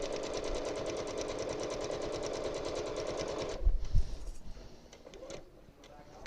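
A sewing machine runs steadily, stitching a quilt's binding for a few seconds, then stops; afterward come a couple of low thumps and faint handling noises.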